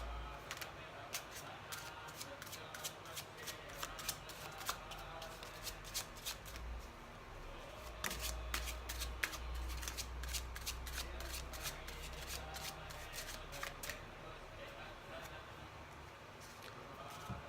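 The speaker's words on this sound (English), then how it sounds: "I'm having even a hard time grabbing these cards." Large tarot cards shuffled by hand, a steady run of crisp riffling and sliding card sounds close up, continuing throughout with no voices.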